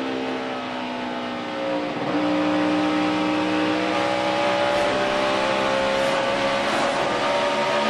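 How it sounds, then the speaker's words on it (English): NASCAR Sprint Cup race car at Pocono downshifting on the approach to turn 1, a loud, sustained engine drone that dips in pitch at a gearchange and then holds a steady roar, close and with no voices. "I'll downshift again here in a little bit, going down into turn 1."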